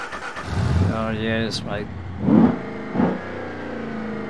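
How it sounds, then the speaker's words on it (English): An Ibishu Diadem car engine in BeamNG cranks and starts, then revs in a few rising bursts, loud and close, while someone talks over it. "let's start up the engine"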